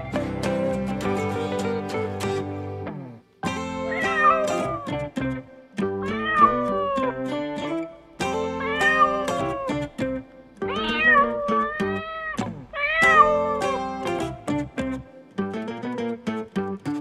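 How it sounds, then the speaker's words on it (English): Several drawn-out domestic cat meows, clear and close, each a separate call with brief pauses between them and no talking. "Cat."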